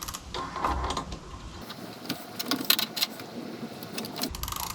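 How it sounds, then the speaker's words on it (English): A crank puller works an e-bike crank off its spindle, giving soft metallic clicks, creaks and ratcheting scrapes close by in irregular bursts. "now to move the inner piece in, and it's going to push the crank off."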